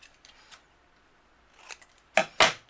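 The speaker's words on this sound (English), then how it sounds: "then I'm going to use my scissors" Scissors cutting paper while making a handmade greeting card: a few faint snips, then two louder crisp cuts close by near the end, in a quiet room.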